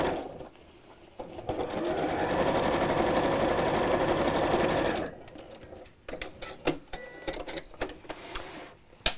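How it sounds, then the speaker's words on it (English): A sewing machine stitches through a bag flap, sewn from the inside without a free arm, in a steady run of fast mechanical clatter lasting several seconds, then stopping into quieter handling noises and short bursts. "If you have a free arm on your sewing machine, then it might be a good time to use it. Otherwise, just sew from the inside like so."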